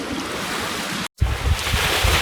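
Wind of about 15 knots roaring and waves washing against a single-handed trailer sailer running with one reef in the main, a steady broadband rush with a brief dropout midway, then louder, gustier splashes and buffeting.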